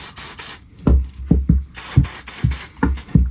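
GT85 degreaser sprayed onto a Voodoo Hoodoo Halfords bike in a run of short hissing bursts, about six quick aerosol spurts with brief pauses, close and fairly loud.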